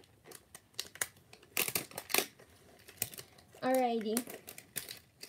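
Toy packaging being unwrapped: crinkling and tearing bursts come in scattered, close-up clusters between and under a person's casual talk, with a brief high squeaky tone near the end.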